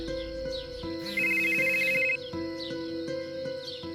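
An electronic phone ringtone plays a repeating melodic pattern of bright tones, with one sustained high beep in the middle, clear and close.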